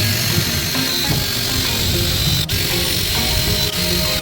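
A power drill bores holes in stainless steel, its steady whirring motor running close and loud for the whole stretch, with a few brief catches and knocks as the bit bites into the metal.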